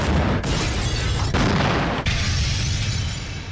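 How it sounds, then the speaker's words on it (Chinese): A bomb explosion in a TV drama, a loud sustained roaring blast with several sharp cracking bursts inside it, filling the space and slowly fading at the end. "炸弹。"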